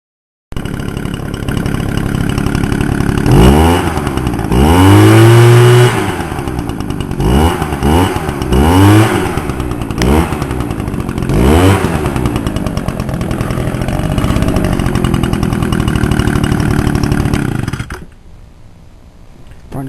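Echo RB-125 leaf blower two-stroke engine running after a Zama carburetor rebuild, loud and close, revving up and down in several sharp bursts before settling into a steady high run, then cutting off abruptly.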